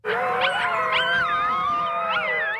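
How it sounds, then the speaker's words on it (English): Several seven-week-old American red wolf pups howl together in overlapping, wavering high cries, loud and sustained throughout with no talk over them. "At 7 weeks old, the pups have started howling, making an important milestone."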